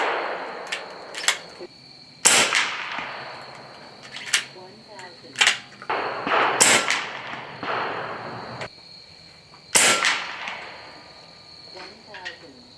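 An AEA Challenger PRO .35 caliber long-barrel air rifle fires FX hybrid slugs at 50 yards, several sharp cracks spaced seconds apart with quiet handling noise between, and voices talking in the background.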